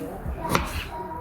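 A knife makes a single short chop while slicing bell pepper on a kitchen board for a chickpea salad. The brief knock stands alone against a quiet background.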